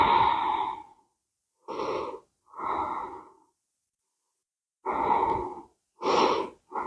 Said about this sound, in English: Taking a couple more breaths here though.